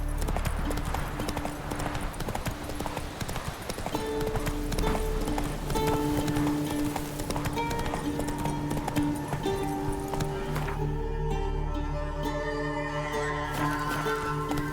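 Roach the horse galloping in The Witcher 3, a rapid steady beat of hooves running for several seconds before dropping to a slower rhythm, with background music playing.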